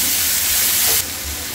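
Two chopped tomatoes dropped into a hot pan for a fish curry, giving a loud, steady close hiss of sizzling that eases slightly partway through, with no talking.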